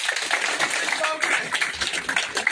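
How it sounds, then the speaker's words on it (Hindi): Steady clapping from an audience at a political party induction event in Jammu carries on throughout, dense and continuous, with a voice talking over it. "जोरदार तालियों के साथ"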